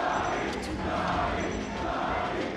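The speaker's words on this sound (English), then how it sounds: "Crowd getting raucous for S2J." Raucous crowd roaring steadily in a hall at a Super Smash Bros. Melee tournament, CEO 2017, during a Sheik versus Captain Falcon match; a dense, continuous wall of cheering that stays loud for the whole stretch.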